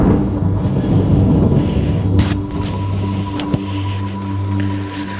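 Rain falling at night over a sugarcane field, a loud steady roar with deep low rumbling like thunder throughout, plus a few sharp knocks and a steady hum.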